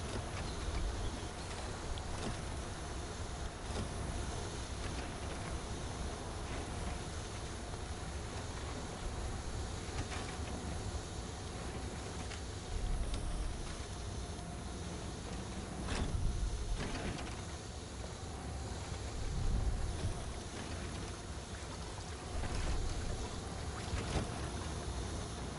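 SnowRunner truck engine in a logging setting, a steady broadband hiss with a low rumbling drone running continuously throughout, with a few brief swells in level.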